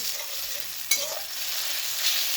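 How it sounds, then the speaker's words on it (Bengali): Tomatoes fry and sizzle steadily in a pan, with a spatula scraping and stirring through them, including one sharper clack of utensil on metal partway through. "দেখুন অলরেডি আমার টমেটো কষানো"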